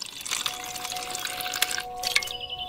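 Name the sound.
water poured into a pot of meat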